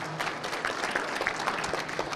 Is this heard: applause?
yes